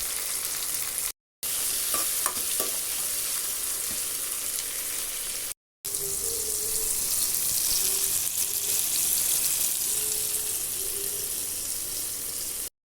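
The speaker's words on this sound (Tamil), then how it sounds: "தக்காளி கரைஞ்சி வர அளவுக்கு வதக்கி எடுத்துக்குவோம்." Chopped ripe tomato and onions saute in a pan for a drumstick kara kulambu, making a soft continuous sizzle with light stirring and scraping, broken by two brief silent gaps.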